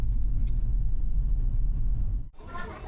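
A van carrying passengers along a road in the Philippines, its steady low engine rumble and road noise continuing for most of the clip before easing off near the end.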